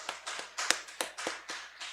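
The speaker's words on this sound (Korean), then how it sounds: "박수 좀 부탁드리겠습니다" A few people clapping in a church during a Friday prayer meeting: a sparse, quiet run of distinct handclaps about every quarter second, sounding small and somewhat distant rather than like a full crowd.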